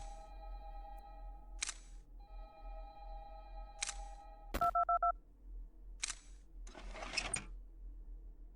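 Electronic telephone tones in the video game Five Nights at Candy's 2, sustained beeping tones interrupted by sharp clicks and a short burst of rapid dual-tone pips, followed by brief noisy electronic blips, fairly quiet.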